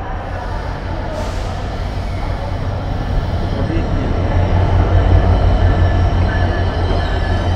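Benapole Express passenger train pulling into Benapole railway station, a loud steady rumble of wheels on rails with faint squealing, swelling slightly as it nears, with a brief hiss early on.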